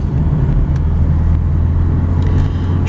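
A 1986 Volvo 240 244DL sedan drives on a hot summer day in Fair Oaks, California, its engine holding a steady, smooth low rumble with no voices present.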